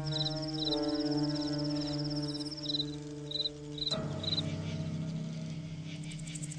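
Crickets chirp in a garden, rhythmic pulsed trills repeating in short bursts over a steady background drone, fairly close, with a low hum underneath that shifts partway through.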